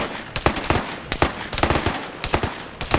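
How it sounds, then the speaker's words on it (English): MP40 submachine gun firing in a Vietnam-era PvP video game match, several rapid bursts of loud, sharp automatic shots separated by short pauses, close and dominant with no talk. "It's an MP40."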